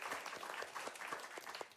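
Quiet but steady applause from a gaming-event audience at an RPG Limit Break finale, with many hands clapping continuously at a distance and a few sharper claps near the end.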